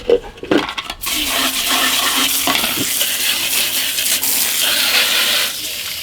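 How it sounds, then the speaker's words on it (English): Small backyard chicken waterers being rinsed out with water, giving a steady close rush and splash that runs almost unbroken after a short burst of knocks and clatter at the start. "Now these little waters, I just refill them. I rinse them out."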